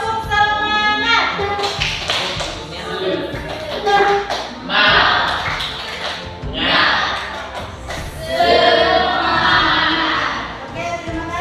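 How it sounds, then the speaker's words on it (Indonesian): Pupils in a classroom perform a rhythmic spirit clap in bursts of patterned claps, mixed with chanting voices and some shuffling, fairly loud and close. "Coba kita sini dulu, tepuk semangat."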